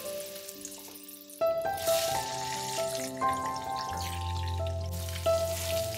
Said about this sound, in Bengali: এরপর আলুগুলোকে আমাদের গোল্ডেন কালার আসা পর্যন্ত ভেজে নিতে হবে।